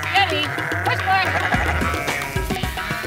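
Sheep bleat repeatedly while a kelpie herds them on a farm, the wavering calls rising over continuous background noise and a voice giving commands to the dog.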